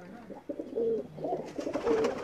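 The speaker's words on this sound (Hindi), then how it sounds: "ये देखें जी उनके बाकी के कबूतर एत सही आ रहे हैं।" Pakistani pigeons at a loft giving soft, rhythmic cooing calls, several overlapping coos close by over about two seconds, with no voices.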